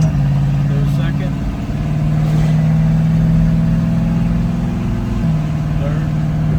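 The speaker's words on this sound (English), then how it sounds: "Going through all the gears, so that's a good sign." A Willys jeep engine running steadily during a test drive, with a continuous droning hum that steps in pitch as it shifts between gears.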